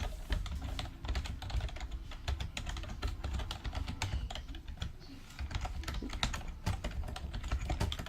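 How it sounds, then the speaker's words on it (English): Steady rapid clatter of keys on a computer keyboard, close and continuous with brief pauses, no voices. "Then type in a password."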